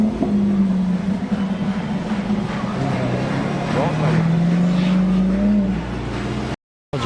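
A white GT sports car arriving on a Monaco street, its engine a loud near drone with a rising and falling pitch, heard alone before a brief cut.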